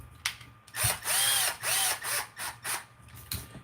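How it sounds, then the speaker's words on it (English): Power driver tightening the rear upper bolt on a GSpeed V3 RC car, several short whirring bursts with a rising whine and ratcheting clicks, close up and with no talk. "I'm going to tighten this rear upper bolt."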